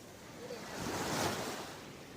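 Sea waves wash onto a beach while people gather shellfish, a broad rushing surge that swells and recedes once, with some wind noise on the microphone.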